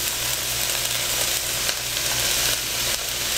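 Vegetables and green onions fry in a pan for yakisoba, giving a steady, close, loud sizzle that runs unbroken with no voices.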